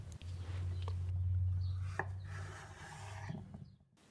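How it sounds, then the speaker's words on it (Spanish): A knife works through cucumber and salad ingredients on a wooden board, a few soft close cuts and scrapes over a low steady hum, quiet and sparse. "Empezamos a picar los ingredientes"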